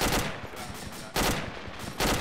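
Gunfire in the military shooter Arma 2: sharp, loud broadband bursts of automatic fire with a couple of distinct volleys about a second apart, dense crackling shots and no talk.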